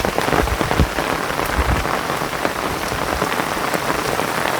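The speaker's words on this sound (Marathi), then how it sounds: "त्या साईडला पाऊस बघ, पाणी बघ किती आहे" Steady, dense rain pours onto sandy open fields in Konkan, a loud continuous hiss of drops striking the ground and puddles, with scattered sharper drip impacts throughout and no voices.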